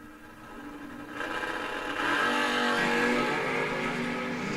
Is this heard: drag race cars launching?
yes